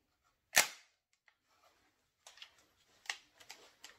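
Beretta semi-auto shotgun dumping shells from the magazine tube into the receiver and jamming: one sharp metallic clack, then a run of lighter clicks and rattles, close and fairly quiet.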